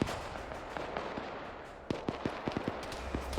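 Sharp gunshots from Ghost Recon Advanced Warfighter, a burst of about seven cracks in quick uneven succession over low game background noise, loud and close.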